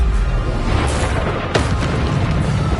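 A Bombarda spell blasting in Hogwarts Legacy: a deep booming explosion over a rumbling battle background, followed by a second sharper burst, loud and close.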